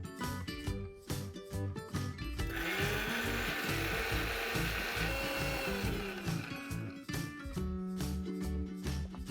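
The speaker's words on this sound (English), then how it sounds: "I'm going to grind this to a fine paste." Fried crispy onions ground to a fine paste in an electric grinder for a chicken korma, a loud steady whirring drone that holds for several seconds between short start-stop pulses, close up with no talking.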